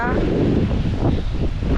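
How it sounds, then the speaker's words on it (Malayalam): Wind buffets the microphone with a continuous low roar at a lake viewpoint, filling the whole clip without a break. "നല്ല കാറ്റുണ്ട്."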